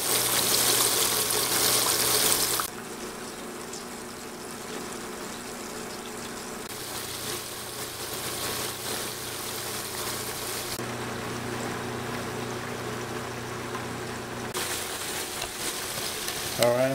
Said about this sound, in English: I'm gonna fry them for 5 minutes and then turn them over.